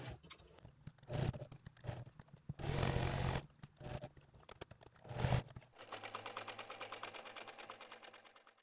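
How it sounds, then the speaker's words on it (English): A sewing machine stitches a minimalist fabric wallet in short bursts with pauses between, then settles into a steady, rapid mechanical run toward the end. "Once we've finished sewing the zipper, we're going to go ahead and sew that Velcro"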